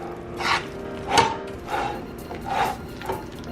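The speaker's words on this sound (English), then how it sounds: "let me just finish mixing this because I cannot mix this and record at the same time" A pinto bean patty batter with flour is mixed by hand, giving soft irregular squishing and scraping strokes, about five distinct rubbing bursts close by with quiet gaps between.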